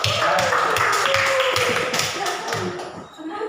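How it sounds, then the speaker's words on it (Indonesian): A classroom of students claps together in a quick, rhythmic pattern of sharp hand slaps, loud and near, with voices mixed in underneath. "kasih tepuk tangan buat aku untuk semua"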